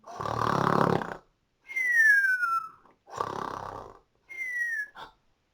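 A person imitates snoring twice: a rough, rumbling inhale followed by a high whistling exhale, repeated in a slow rhythm.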